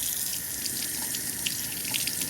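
Running tap water soaks a sponge for an acoustic guitar humidifier, a steady, close faucet stream with no talking.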